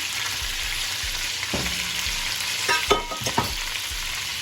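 Vegetables are stirred into a hot pot of beef stew, giving a soft steady sizzle with a few scraping, clunking stirs near the middle, close and moderately quiet.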